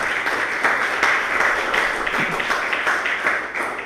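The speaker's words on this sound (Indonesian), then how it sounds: "Mari kita tepuk tangan untuk kita semuanya." Audience applause at the close of a public lecture at an agricultural polytechnic in Manokwari, a steady mass of claps filling nearly four seconds at an even level with no voices over it.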